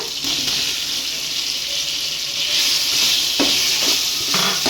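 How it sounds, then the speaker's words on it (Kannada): Tomatoes frying in a pan for mushroom biryani, with a steady broadband sizzle and occasional stirring scrapes throughout, fairly close and continuous without talk. "ಟೊಮಾಟೊನ ಚೆನ್ನಾಗಿ ಫ್ರೈ ಮಾಡೋಣ"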